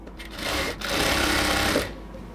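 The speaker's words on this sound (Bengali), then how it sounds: "এটাকে ধরে রেখে সেলাইটা করতেছি" An electric sewing machine runs a steady, loud whir while stitching a cotton dress seam, with a brief dip in speed before it resumes and then stops.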